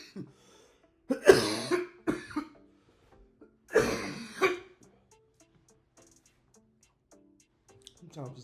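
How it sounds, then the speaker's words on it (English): A person coughing hard after smoking a joint: two harsh bursts of coughing with throat clearing between them, close and loud, separated by quiet breathing. "Sometimes it's good to get a good coughing."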